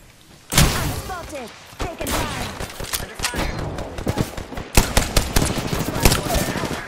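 Rapid automatic gunfire from the Apex Legends battle royale game, dense bursts of shots hammering continuously with impacts, loud and close throughout.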